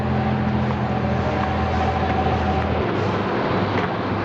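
A motorboat engine roars at high speed with a steady droning hum and rushing water noise, the pitch shifting slightly near the end.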